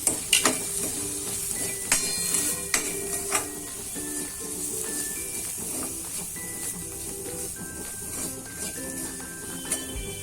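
Chili powder, coriander-cumin powder and salt being mixed for a sweet corn dish, a few light spoon clinks and taps near the start, then soft scraping under a steady hiss and faint tonal background.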